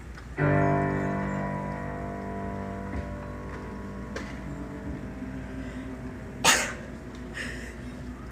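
A single sharp sneeze bursts out near the end of a Q&A event, after a sustained chord from a closing musical number fades beneath it.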